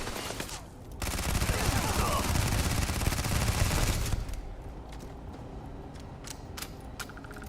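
Sustained rapid gunfire from a firefight against pirates in Starfield, a dense roar of shots lasting about three seconds, then quieter scattered clicks and rattles with faint voices.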